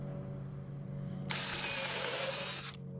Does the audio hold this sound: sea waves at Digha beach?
no